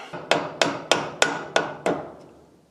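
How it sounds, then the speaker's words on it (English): Six sharp metallic hammer blows from the ball end of a hammer knock a part into a Milwaukee angle grinder, evenly spaced and close, each ringing briefly before the next. "if you use your ball end of your hammer to knock that in, it'll go in absolutely fine"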